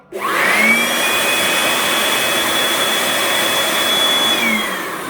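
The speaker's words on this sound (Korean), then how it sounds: "이 선을 바람을 잘 불어주셔야 돼요." An air blower roars steadily and loudly at close range as it dries a disconnected wall-mounted air conditioner wire, starting abruptly and holding a constant whine before easing slightly at the end.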